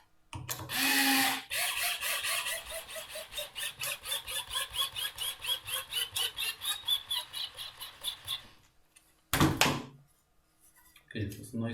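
A small screw being driven into a plastic iPhone holder stand kit, giving a run of rapid, regular ratcheting clicks for several seconds, then a short sharp burst and a brief scrape near the end, close and fairly quiet.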